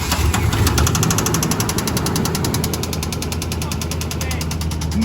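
An engine with rod knock runs loudly and steadily after fuel pump priming, a fast regular metallic knocking riding over its idle rumble, with faint voices in the background.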